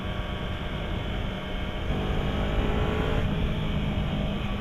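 A 2015 Yamaha R3 motorcycle engine drones and accelerates steadily on a test ride, giving a continuous loud hum with rising pitch.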